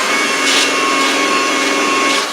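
Polishing buffer working compound into touched-up paint on a Land Rover Series Malawi 110 air intake, a loud continuous motor whine with slight surges as the pad moves, close up and alone.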